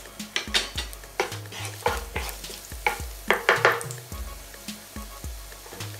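Garlic sizzles in oil for spaghetti puttanesca while a wooden spoon stirs it, giving a steady rhythm of short scraping strokes over a soft, continuous frying hiss, close and fairly quiet.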